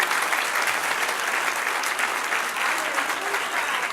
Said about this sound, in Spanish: Es un aplauso al Señor.